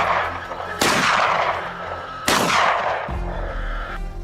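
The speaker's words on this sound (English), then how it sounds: "In a sharp, decisive moment, the shot rang out instantly." Two loud rifle shots ring out on a hillside wild boar hunt, spaced about a second and a half apart, each with a sharp crack and a short rolling echo, followed by a low rumble.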